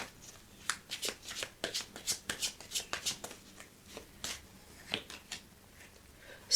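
Tarot cards shuffled close up in a steady run of quick crisp riffles and flicks, each burst short and sharp, with no talking.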